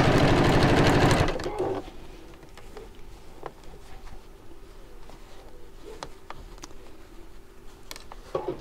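A sewing machine stitching a binding edge runs in a loud fast burst at first, then quiets to soft intermittent clicks and a low hum while the fabric is adjusted.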